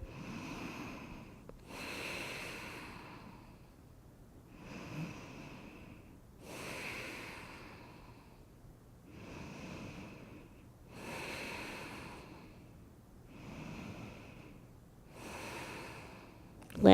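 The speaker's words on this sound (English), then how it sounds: "3 or 4 breaths here." Slow, deep breathing held in a yoga pose, with five or six soft, airy breaths at an even, unhurried pace, quiet and close.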